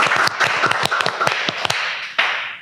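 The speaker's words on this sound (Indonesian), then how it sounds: "Kan tepuk tangan dong untuk PHD luar biasa." A small group claps for the PHD dance crew from Ambon: a burst of loud, crisp, uneven hand claps close by, thinning out and trailing off toward the end.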